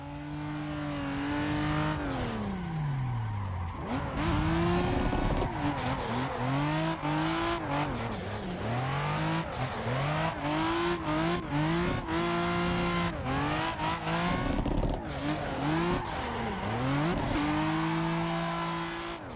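A drift car in the Assetto Corsa racing game, from the Tando Buddies mod pack driven on a Fanatec CSL DD wheel, revs hard again and again with pitch swooping up and down, while tires squeal and skid loudly throughout.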